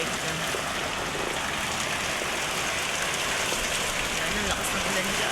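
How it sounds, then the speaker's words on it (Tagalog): Heavy rain pours steadily and densely onto surfaces, a loud unbroken hiss with no pauses across the whole stretch. "ang lakas ng ulan, guys"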